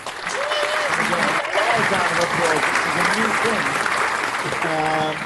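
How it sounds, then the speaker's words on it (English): A live audience at a community talk event applauds a speaker, a steady wash of clapping throughout with people talking over it. "Give you a round of applause for that."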